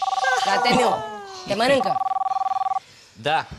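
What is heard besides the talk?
mobile phone ringing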